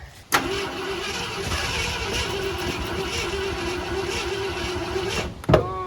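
A Ford F-100 pickup engine, long left sitting, cranks and catches, then runs steadily on a freshly filled carburetor with a rough, uneven idle for several seconds before cutting out abruptly near the end.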